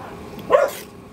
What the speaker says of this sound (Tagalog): Meron yung aso guys.